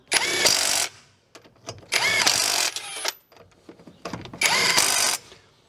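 Cordless impact wrench tightening a car wheel nut, three loud hammering bursts of about a second each with quieter handling and clicks in between, close up and no talk.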